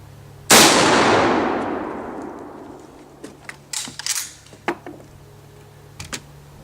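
A single 7.62x54R rifle shot, 147-grain light ball ammunition fired at a mild steel plate, cracks loudly and close, its echo decaying over a couple of seconds, followed by scattered faint clicks and knocks.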